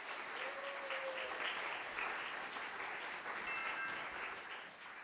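A school audience gives sustained, even applause to welcome a high school team at a regional mock trial competition. The clapping is dense and steady for the full length, with no voices over it.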